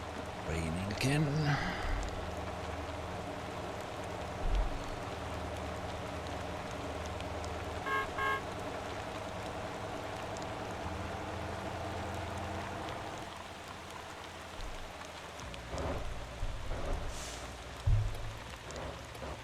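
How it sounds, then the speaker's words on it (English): Rain in the driving game Motor Town, a steady hiss of falling rain across the whole stretch under someone talking and occasional engine or vehicle noise. "Raining again."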